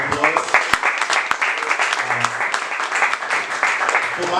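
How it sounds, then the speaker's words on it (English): A room of people at a business networking event applauding for Prince after his first event, brisk close clapping with a few sharp individual claps and some voices mixed in. "Give him a round of applause."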